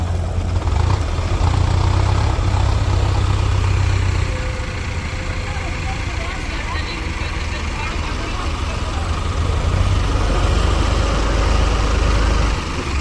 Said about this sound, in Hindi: अब 2 ट्रैक्टर से एक साथ ताकत लगाते हैं दोस्तों,